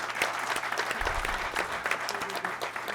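An audience at a public sector union event breaks into applause, a dense, even wash of clapping from a crowd that fills the whole three seconds without pause.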